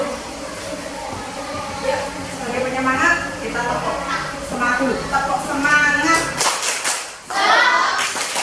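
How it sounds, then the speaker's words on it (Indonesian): A classroom of students claps together in unison as encouragement, rhythmic group clapping mixed with voices chanting along, with sharper bursts of claps toward the end. "Sebagai penyemangat kita tepuk"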